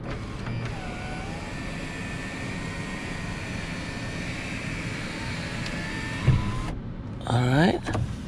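Moonroof motor on a 2012 Toyota Tundra sliding open, a steady electric whir inside the cab that runs for several seconds before stopping, followed by a few brief clicks and a short burst of motor noise.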